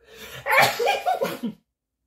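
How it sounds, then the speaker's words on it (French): A single drawn-out, strained sneeze lasts about a second and is heard close and loud, then cuts off to silence. "Je vous jure qu'il éternue vraiment comme ça."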